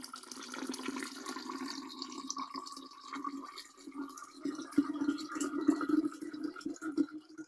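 Warm water is poured into a vessel of sugar to dissolve it for homemade lemon wine, a steady close splashing and trickling stream that runs for several seconds and grows slightly louder toward the end.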